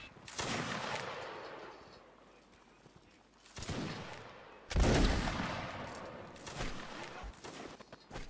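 Cannon fire in an online Napoleonic-era line battle game event sounds as heavy booming blasts, with one near the start and a louder, deeper one midway, each rolling off into long rumbling echoes.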